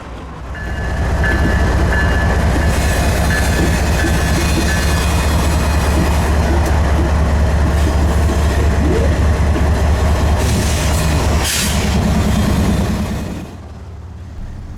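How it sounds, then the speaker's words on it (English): A BNSF freight train rolls past east of Auburn in Western Washington, its steady loud rumble and clickety-clack of wagons filling the scene near and constant before cutting off abruptly at the end. "The train began to make its way east"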